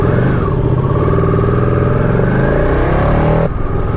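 A Ducati 959 Panigale motorcycle ridden through Cambridge streets, its engine loud and close as it revs and climbs in pitch through the gears, then dips abruptly near the end as the throttle closes.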